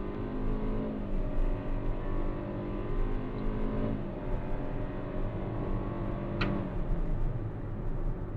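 A 2024 Hyundai Creta facelift with an IVT gearbox drives along, its engine a steady, moderately quiet drone with shifting tonal hum, a brief sharp click near the end.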